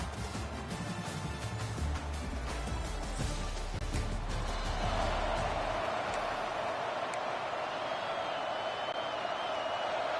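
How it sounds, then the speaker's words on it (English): A stadium crowd in a college football video game roars continuously, a dense wash of cheering and noise that holds steady throughout without talk. "This crowd, full throat, splitting the eardrums and letting them know it's going to be a long day."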